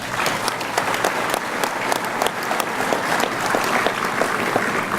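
Loud, continuous applause from a crowd at a Firefighter 1 graduation ceremony in Dutchess County, New York, many hands clapping densely and evenly throughout.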